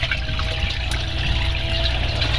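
Water draining out the bottom of an aquaponics filter screen into a bucket, a steady, close rushing and trickling flow with a low pump-like hum underneath, constant throughout.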